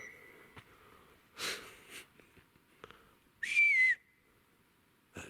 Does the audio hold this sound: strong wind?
no